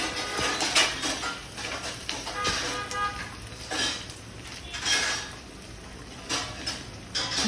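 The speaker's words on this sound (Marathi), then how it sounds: "आता प्रथम मी तेलात भेंडी परतून घेणार आहे" Okra is stirred as it fries in oil in a pan, with scraping and clinking of a utensil against the pan in irregular strokes, close and moderately quiet, over a faint sizzle.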